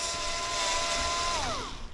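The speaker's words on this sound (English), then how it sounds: "It's not a strong drill by any means, but I think it's gonna do the job just fine." A small, low-powered electric drill drives wood screws, its motor whine holding a steady pitch and then sliding downward as the screw seats, heard close and fairly quiet with no talking.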